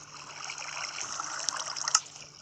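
Water poured onto concrete powder in Minecraft, a soft continuous trickling and splashing, moderately quiet and steady, with a few small brighter blips toward the end and no talk.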